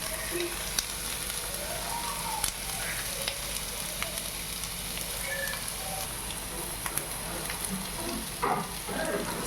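Vegetables fry in hot oil for a spicy tindora and garlic dish, a continuous fairly faint crackling sizzle with occasional sharp pops and a spoon tapping now and then.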